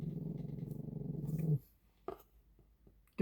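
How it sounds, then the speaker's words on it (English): A pet dog growls low and continuously for about a second and a half, fairly close and steady, then falls quiet apart from a couple of faint brief noises. "Why is my dog growling?"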